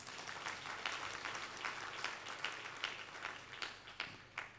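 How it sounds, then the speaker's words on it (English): An audience at a fund's annual members' meeting claps, a broad wash of applause that carries on throughout and rises in a few brighter bursts, heard from a distance in a large hall. "And I'm expecting a hand clap."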